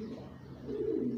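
A pigeon being handled gives a soft, low coo that swells toward the end, close and quiet.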